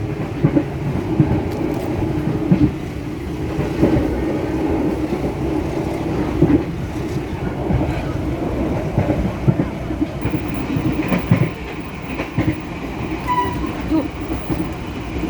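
A passenger train running at 80 to 90 km/h between Surabaya and Semarang rumbles steadily along the rails with a continuous low roar and occasional rhythmic clacks, heard from inside the carriage.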